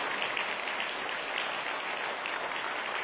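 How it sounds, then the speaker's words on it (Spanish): Warm applause from the audience at an evening lecture of the Lima Bar Association, heard as a steady, fairly faint wash of many hands clapping without a break. "Le vamos a renovar un fuerte y caluroso aplauso por favor esta noche."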